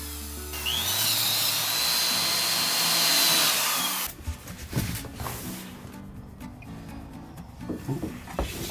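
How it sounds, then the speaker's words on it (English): While drywall is hung in a room renovation, an upgraded screw gun whines steadily at close range for a few seconds, then gives way to scattered knocks, rustles and handling noises. "Now, I'm hanging drywall. I upgraded my screw gun and it's working great."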